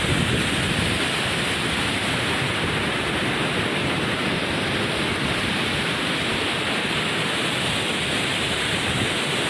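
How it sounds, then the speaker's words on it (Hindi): Fast-flowing water rushes beneath a road bridge in Kutch, India, a steady, loud, broadband roar that holds unbroken throughout with no voices. "पानी बहुत तेज़ी से निकल रहा है यहाँ से"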